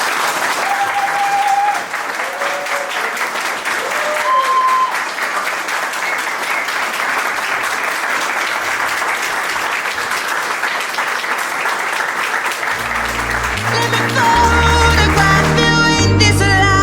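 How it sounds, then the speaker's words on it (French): Wedding guests give the newlyweds long, loud, sustained applause, with a few whistles and cheers early on and music rising in at the end. "Vous pouvez les applaudir."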